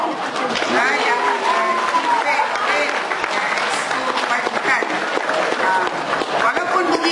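Applause from an audience at a Malaysian public talk on disability issues, a steady dense wash of clapping lasting several seconds, with voices audible through it.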